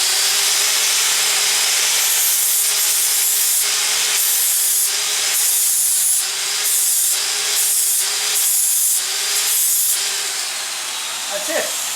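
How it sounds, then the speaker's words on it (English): An angle grinder dresses welds on a steel chuck stop in loud, hissing, abrasive bursts, starting and stopping in a rough rhythm of short passes, close up. "a little touch of grinding on each side."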